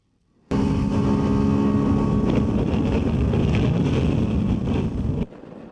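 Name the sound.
Ducati Desert X motorcycle riding on the road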